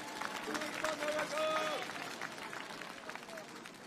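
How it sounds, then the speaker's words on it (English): An outdoor audience at Bryant Park claps and cheers for a sponsor at a picnic performance, a faint, distant scatter of applause with murmuring voices and a few whoops. "Bank of America, let's give them a round of applause."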